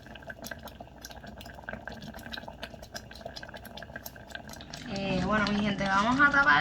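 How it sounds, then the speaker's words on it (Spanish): Rice boiling in a slow cooker, with bubbling, sputtering and splattering that grows louder and denser toward the end, alongside a few small kitchen clatters. "vamos a taparlo porque está salpicando mucho"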